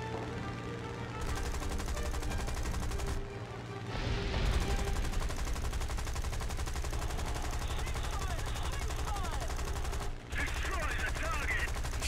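Sustained machine-gun fire from War Thunder combat, a dense continuous clatter running almost the whole stretch with only brief gaps, loud and steady over engine-like rumble.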